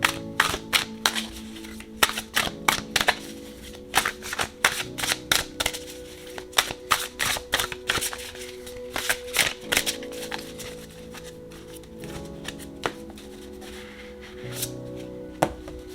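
Tarot cards shuffled in quick bursts of crisp slaps and riffles, irregular and close, over soft steady background music.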